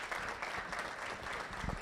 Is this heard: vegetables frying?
no